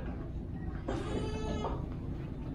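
A goat kid, about two months old, bleats once, a wavering cry of about a second standing out over steady background noise.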